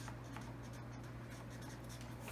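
Pen writing by hand on paper during an electricity lesson, a soft continuous scratching over a low steady hum.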